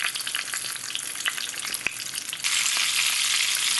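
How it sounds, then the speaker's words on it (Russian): Loud, steady sizzling of fish frying in a pan, a dense crackling hiss that grows stronger near the end, with no talking. "О, ну сейчас так все выложу и буду жарить."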